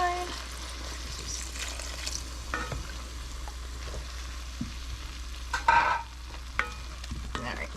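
Wine poured into a hot soup pot and stirred, a soft sizzle with scraping stir sounds and a brief burst of liquid near the middle, fairly quiet and without speech.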